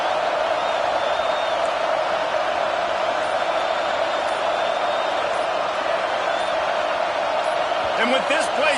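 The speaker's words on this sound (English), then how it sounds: "The Buckeye crowd alive on 3rd down." An Ohio State football stadium crowd roars steadily on third down, a dense sustained wall of cheering with a commentator talking over it.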